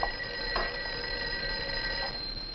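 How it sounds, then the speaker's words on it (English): An office telephone rings quietly with a thin, steady tone and a few brief pulses, set against a faint background hiss. "I think your phone is ringing."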